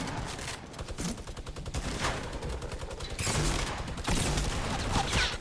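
Bursts of automatic gunfire from a Fortnite match, dense rapid volleys in several clusters with brief gaps between them, loud and close with a busy game-sound background.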